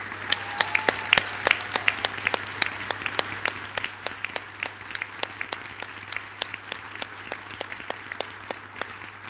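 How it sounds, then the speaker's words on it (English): A university graduation audience applauds in a hall, with many sharp, distinct claps that stay fairly even and polite across about nine seconds, without strong cheering. "Give them a huge cheer and round of applause."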